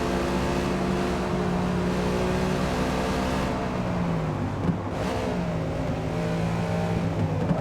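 Race car engines drone steadily in Forza Motorsport (2023) while the player's car drafts closely behind a Cadillac. The engine tones hold and shift pitch as they rev, and tires whine briefly near the middle.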